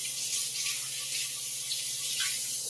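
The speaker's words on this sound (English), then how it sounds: "I just have to rinse my hands very quickly." A kitchen tap runs in a steady, loud, close hiss as hands are quickly rinsed under the stream, continuous with no speech.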